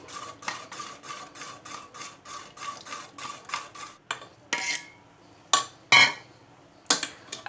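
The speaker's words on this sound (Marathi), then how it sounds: "एका हाताने असं चिक सोडायचा आणि एका हाताने आपल्याला असं हलवून घ्यायचं आहे" A pot of wheat kurdai batter stirred over a low flame, with rhythmic scraping strokes roughly twice a second, then a few louder clanks and knocks of the utensil against the pot, with no voices.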